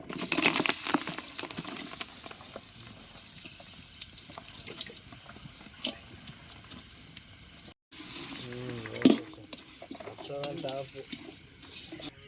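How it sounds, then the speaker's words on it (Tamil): Chopped onions frying and being stirred in a pan for crab masala, cooked outdoors village-style; steady sizzle with scraping stirs, a brief gap, then louder clattering and sizzling. "அப்படியே அதில் போட்டு இதில் வர நறுக்குன வெங்காயத்தை போட்டுக்கலாம்."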